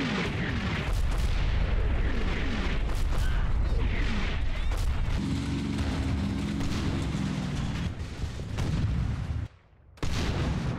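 Artillery fire in the World War II video game Combat Mission Battle for Normandy, a heavy continuous barrage of booms and blasts with a lower rumbling stretch midway, cutting to near-silence briefly before resuming.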